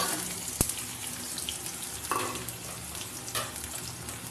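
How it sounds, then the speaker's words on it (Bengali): Chopped onions fry in hot oil with nigella seeds in a wok, giving a soft, steady sizzle with a few sharp stirring clanks, fairly quiet and with no talking. "দেখো পেঁয়াজগুলো ভাজা ভাজা করে নিই"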